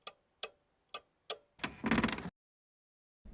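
A clock ticks in a slow, steady rhythm, four crisp separate ticks, followed by a brief louder rattling burst, silence, and one more faint tick starting at the end.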